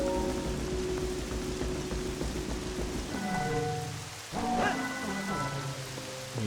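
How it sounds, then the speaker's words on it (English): Rain in The Legend of Zelda: Twilight Princess HD falls as a dense, steady hiss with game music and tones layered over it, plus a brief deep rumble midway. "the rain comes back"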